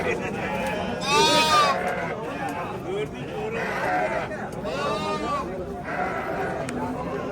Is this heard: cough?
no